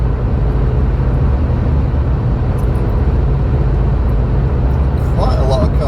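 Steady broadband road and engine rumble from a car cruising on a busy smart motorway ring road, continuous and close throughout, with a voice talking briefly near the end.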